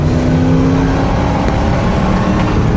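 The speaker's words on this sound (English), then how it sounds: "All right, full power, full throttles." Piston engines of an A-26 Invader at full throttle in a flight video game, a steady loud droning roar with a constant low hum that holds throughout with no talk.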